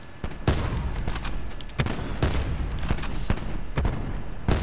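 Gunfire from a Call of Duty: Black Ops 4 match rings out in loud, close bursts and single shots, spaced irregularly over a few seconds.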